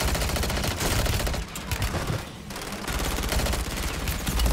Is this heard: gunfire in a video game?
yes